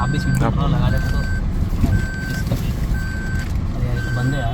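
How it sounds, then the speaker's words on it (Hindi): A Suzuki car's seat belt reminder sounds a regular run of short electronic beeps, evenly spaced and close, over cabin engine hum while people talk. "तो ये सायरन वगैरह कुछ सीट बेल्ट के ही बजा रहा है, जब तक आप लगाओगे नहीं तब तक ये करेगा।"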